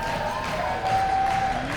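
Tournament crowd at a fighting game grand final cheering and applauding for players, a steady mid-level roar with a faint tone running under part of it.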